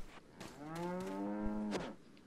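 A cow lets out one long, drawn-out moo in Resident Evil 4, clear and close over faint game ambience.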